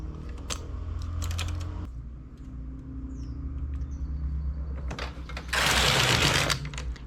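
Domestic knitting machine fitted with a ribber, worked for textured stitches: the carriage rattles and clacks across the needle bed in loud mechanical bursts, with a bright sweeping rush near the end, alone with no talking.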